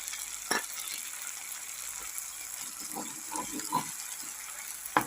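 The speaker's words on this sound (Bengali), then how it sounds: "আদা বাটাটা দিয়ে একটু নেড়ে নিই" Ginger paste is stirred in a frying pan over low heat, giving a faint, soft sizzle with occasional scraping strokes and a few light clinks of the spoon.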